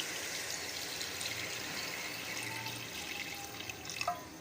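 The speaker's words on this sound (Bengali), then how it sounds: "এবার আমরা এতে দিয়েছি জল।" Water poured into a pot of braised mutton curry gives a steady, close liquid wash with a few soft drips, continuous and alone for the whole stretch.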